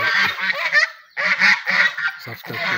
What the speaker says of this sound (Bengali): এই রাজহাঁস এরা এখন বাড়ি ফিরছে